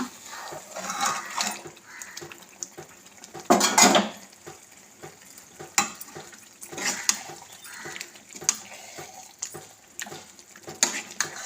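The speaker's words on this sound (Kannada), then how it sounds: "ಇದು ಕೂಡ ಚೆನ್ನಾಗಿ ಫ್ರೈ ಮಾಡುವ. ಆಮೇಲೆ ಚಿಕನನ್ನು ಹಾಕುವ." Chicken is fried in a pan for a Mangalorean-style gravy, with repeated metal spoon scrapes and clatter against the pan over a faint sizzle.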